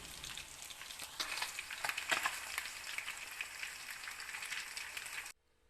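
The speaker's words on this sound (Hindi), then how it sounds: "हमारी फ़िश अच्छे से फ्राई हो गई है।" Fish frying in hot oil gives a dense, steady sizzle and crackle at close range that runs without a break and then cuts off abruptly.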